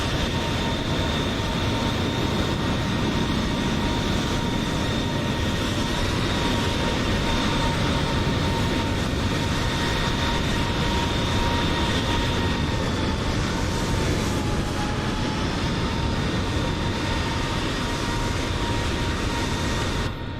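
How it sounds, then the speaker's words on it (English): Steady, continuous jet engine roar of an aircraft departing for Heathrow in Microsoft Flight Simulator 2020, a constant broadband rumble with faint tonal whines holding level throughout, no voices. "So, in the background, there goes the flight to Heathrow."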